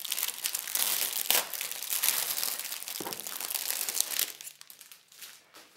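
Paper crinkles and rustles steadily as a children's Peppa Pig activity magazine is opened and handled, close and continuous before dying down into quieter handling near the end.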